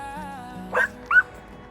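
A Cane Corso lets out two brief, close yips about a third of a second apart near a gated riverside area, over a low, steady background hum.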